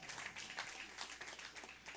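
Congregation applauding in a church service, a steady wash of many hands clapping at once with no talk over it.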